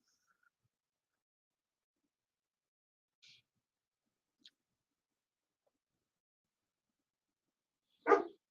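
A puppy gives a single short, loud bark near the end, after a long quiet stretch broken only by a couple of faint small noises, with no talking.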